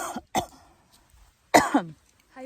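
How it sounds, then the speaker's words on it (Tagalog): A person hiking Mt. Ulap coughs in several short, harsh bursts separated by brief pauses, two close together at first and a longer, louder fit later. "Pwede, inuubo na ulit ako."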